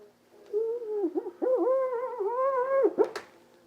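A voice makes a wavering, squeaky whine imitating bees, rising and falling for about two and a half seconds with a brief break, close and clear.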